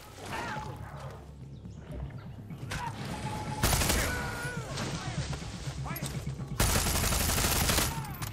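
Fully automatic gunfire from a weapon in the video game Far Cry 6 rattles in dense bursts alongside mechanical clatter and game effects, while a voice talks over parts of it.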